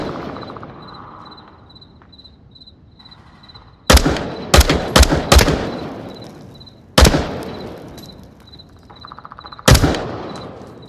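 Sharp, loud gunshots crack out in a quick burst of four, then a single shot and another lone shot later, over a faint high electronic tone during close-quarters room clearing in the Onward VR game.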